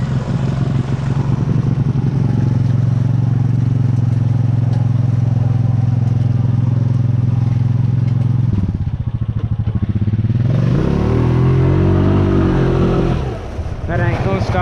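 A Honda Rancher 420 ATV engine drones loudly at steady high revs as its tires spin in mud, then dips and climbs again in a revving surge, close and continuous.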